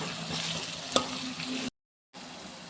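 A tomato and onion mixture for a vegetable omelette sizzles in a pan while a spoon scrapes through it, one sharp clink standing out, before the sound cuts to silence briefly and the frying hiss resumes.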